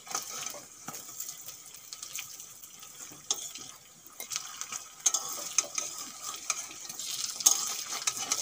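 Bottle gourd leaf fritters frying in oil with light crackling and sizzling, plus scattered scraping and stirring clatters from turning them in the pan, close and fairly quiet.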